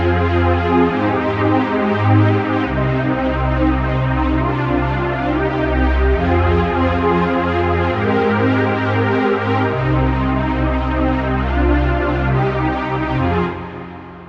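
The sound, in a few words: synth pad sound recreating the pad from a track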